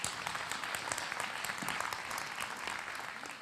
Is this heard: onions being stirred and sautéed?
no